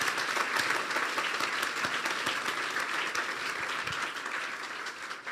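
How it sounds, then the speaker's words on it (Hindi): Steady, loud applause from a church congregation during a Hindi-language worship service, sustained dense clapping filling the whole stretch with no talk over it. "फिर जोरदार तालियां बजाइए यीशु के लिए।"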